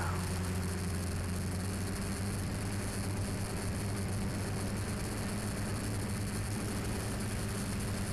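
A light aircraft flies in the search for a lost Extra, its engine droning steadily and close throughout, with a low steady hum and a constant broadband roar, no voices.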